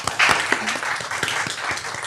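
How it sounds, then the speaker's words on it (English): Applause at a city council meeting, a short burst of close, loud clapping with a few distinct hand claps in the foreground for about two seconds. "I'd just like to give you an applause."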